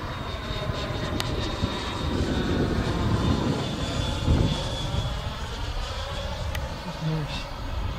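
Freewing de Havilland DH-112 Venom RC model jet flying past, a loud sustained electric ducted-fan whoosh that swells and fades as it passes, with people chatting outdoors.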